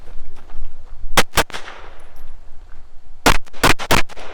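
Sharp pistol shots ring out against steel targets on a 2-gun match stage: a close pair, a pause, then a quicker string of five reports with metallic pings trailing off.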